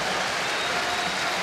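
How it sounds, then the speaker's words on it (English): Crowd applause fills a volleyball arena during a 2011 Hawai'i Rainbow Wahine match against Arizona, a steady, dense clapping that holds at an even level throughout the short stretch. "And the crowd applauds the effort"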